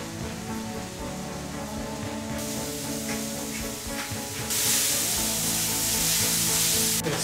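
Bacon fries until crispy in a pan, giving a dense, steady crackling sizzle like rain on a surface that grows louder and brighter partway through, close up with no talk.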